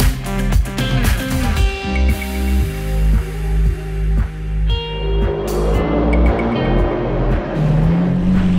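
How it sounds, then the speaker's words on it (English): A Ferrari 488 Spider sports car on a mountain driving road at Jebel Hafit in Al Ain, its engine revving loud and close in repeated surging pulses throughout. "Now I'm here with the 488 Spider."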